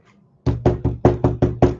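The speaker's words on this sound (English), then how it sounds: "Your bloody table knocks made my dogs bark." Seven sharp knocks on a wooden table come in a quick, fairly even rhythm, loud and close after a brief quiet moment, with no voices.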